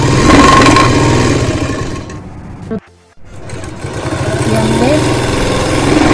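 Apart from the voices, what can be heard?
sewing machine stitching salwar waistband fold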